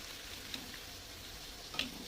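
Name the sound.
luchi puffed flatbread frying in oil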